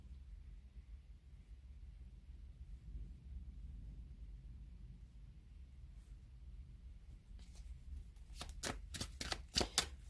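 Tarot cards shuffled for a reading, heard as a quiet steady rustle that ends in a cluster of sharp riffles and snaps over the last couple of seconds, against a low background hum.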